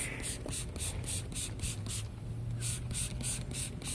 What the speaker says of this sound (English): going to spray it over here.